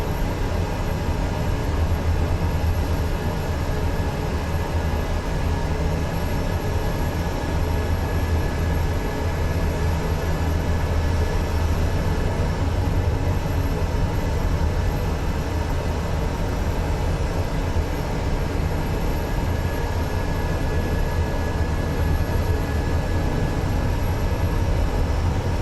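Steady, continuous drone of a DHC-6 Twin Otter's twin propeller engines at full forward prop setting in Microsoft Flight Simulator 2024, a constant loud hum with no variation and no talk.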